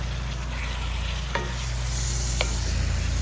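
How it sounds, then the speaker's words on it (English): Steady, close sizzling of food frying in a pan, with a couple of brief clicks from stirring. "loving that sizzling sound"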